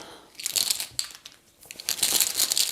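Plastic board game tokens for Warp's Edge rustle and clatter as they go into a bag and get shuffled, in close, crinkly bursts with a brief pause midway.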